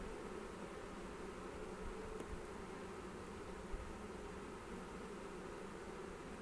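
A dense, steady hum of a clustered honey bee swarm buzzing together, close and continuous, with a faint rustle now and then.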